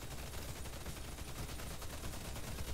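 Dense, rapid gunfire from bot-shooting combat in the Warface video game, heavy continuous bursts packed close together with no gaps across the whole stretch.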